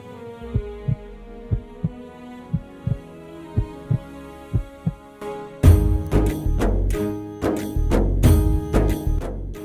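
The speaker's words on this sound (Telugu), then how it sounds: "నా గుండె చప్పుడు పంతులు గారి గుండె చప్పుడు విను" Heartbeat sound effect: a steady, regular lub-dub thumping over a low hum, then swelling into louder, heavier throbbing beats layered with a musical drone.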